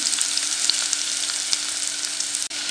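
Onion and garlic browning in a pan for a liver (kaleji) dish, a loud continuous close sizzle with faint occasional ticks, no voices.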